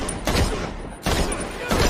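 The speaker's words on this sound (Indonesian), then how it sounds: "Lalu Winston pun menembak John hingga terjatuh dari atas gedung." Gunfire from a John Wick film scene with Winston shooting John: a few loud, broadband blasts at intervals, dense film sound around them.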